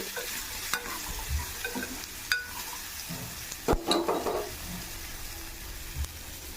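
Boiled chickpeas with salt are stirred in a pan, a soft sizzle broken by a few scraping spoon strokes at irregular intervals, close and fairly quiet.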